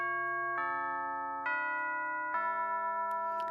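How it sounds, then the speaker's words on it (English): A school bell chime from the Ayakashi Akashi game plays three sustained, clear tones in a steady stepped sequence, loud and alone with no talk. "There's the bell!"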